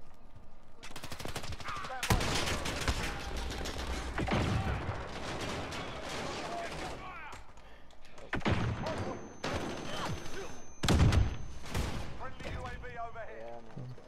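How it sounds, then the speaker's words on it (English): Call of Duty: Modern Warfare firefight with bursts of automatic gunfire and heavy thumping blasts from grenades and C4, loud and irregular, with shouted voices breaking in between the volleys. "everybody's throwing grenades and everything else, and I'm not dying"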